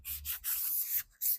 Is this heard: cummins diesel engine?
no